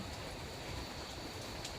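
Steady rain falling outdoors, a soft dense hiss of drops with no breaks, faint and continuous with no voices.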